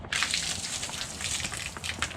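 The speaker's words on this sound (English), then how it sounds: "It's been pouring for the past 3 days" Heavy rain pours down outdoors after three days of steady downpour, a dense, loud, continuous hiss and splatter of water with no one speaking.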